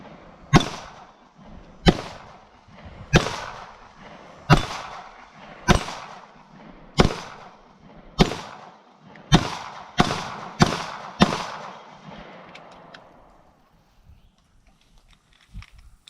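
Canik TP9 Elite SC handgun fired at a range: about eleven loud, sharp reports, spaced roughly a second apart and bunching closer toward the end, then a quiet tail with faint shuffling.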